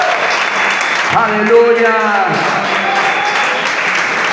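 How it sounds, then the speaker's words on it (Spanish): A church congregation applauds continuously at moderate distance while someone shouts an exclamation over the clapping. "Denle un aplauso al Rey de Reyes."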